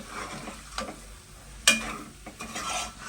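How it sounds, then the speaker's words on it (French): Stirring rougail graton in a frying pot, with soft scraping strokes and a sizzling fry underneath, plus one sharp utensil clink against the pot. "Mélange Ali doucement comme ça"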